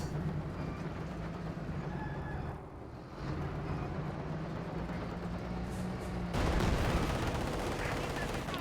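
Tank guns of a Panther and StuG firing at a T-35 in Company of Heroes 2, rumbling battle noise with bursts of shots and explosions under continuous commentary.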